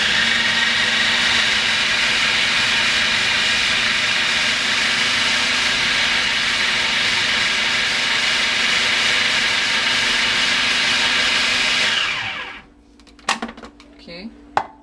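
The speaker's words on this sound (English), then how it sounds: "now that I figured out how to tap on my food processor here" A food processor chopping broccoli for cream of broccoli soup, a loud steady whirring drone close by for about twelve seconds before it winds down and stops, followed by a few clattering knocks.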